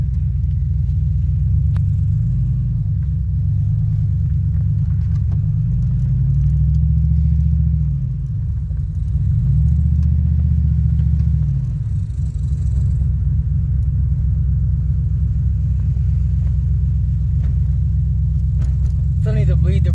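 A 2007 Pontiac Grand Prix GXP driving after a cam sensor replacement, its engine a low steady rumble with gentle rises and falls as it accelerates and eases off, heard from inside the car.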